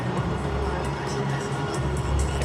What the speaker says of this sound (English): The crowd on their feet, they're enjoying this entertainment